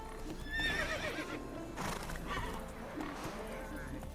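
Roach, Geralt's horse in The Witcher 3 game, lets out a clear, fairly close whinny, with clip-clopping hooves and other in-game noise going on under it.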